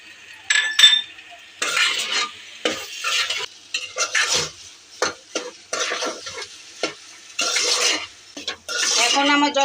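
Zarda semai with fresh chhana and raisins is stirred in a pot, a spoon scraping and clinking in uneven bursts over a soft sizzle, close and loud with brief pauses between strokes.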